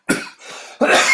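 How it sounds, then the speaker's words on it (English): A single person coughs twice, close and loud, with a short harsh burst, a brief breathy pause, then a second rough cough. "Every time I start messing around, I start coughing"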